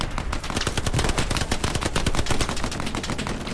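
Rapid automatic bursts of BAR rifle fire in Hell Let Loose, loud and close, continuous cracking shots with fast rhythmic repetition throughout.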